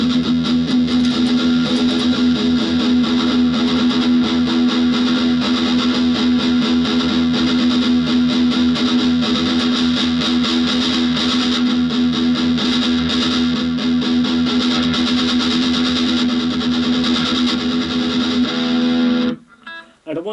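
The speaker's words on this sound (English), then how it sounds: "Let's try it on that distortion sound too." An electric guitar plays through a Roland Cube 15XL amp on its distortion setting, a loud, sustained, buzzing distorted tone held steadily for about nineteen seconds before cutting off abruptly, with no talk.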